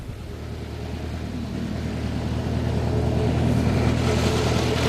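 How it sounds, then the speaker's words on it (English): A vintage Hispano Suiza car's engine runs with a low, steady drone that slowly builds in loudness, heard close and alone. "It's got a comforting engine noise, it's got a very slow, steady, reliable power"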